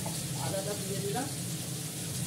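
Ginger goes into a pan of browned, frying chandramukhi potatoes, raising a soft, steady sizzle that runs throughout, with a person talking over it.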